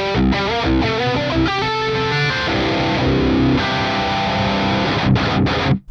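A metal electric guitar, heavily distorted and played through an amp, chugs out a fast riff of palm-muted notes and sustained chords. It is loud and steady throughout with no talking, and the last chord cuts off abruptly.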